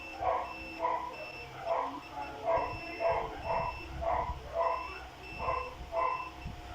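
A multimeter's continuity buzzer sounds during IGBT checks on a Total TW22002P 200A welder with a shorted main capacitor, giving a regular series of short beeps about once per second over a low electrical hum.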